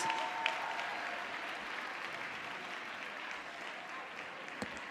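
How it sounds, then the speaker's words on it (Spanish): A crowd applauds a costumed carnival troupe at a carnival group presentation in Errenteria, steady dense clapping holding for the full stretch with no voices over it. "Aplauso fuerte, fuerte, fuerte para Salai y los mundos de Mario Bros"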